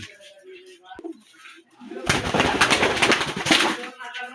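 Pigeons, a mix of males and females, coo softly at close range, then a loud broadband rush of noise swells over them for the last couple of seconds.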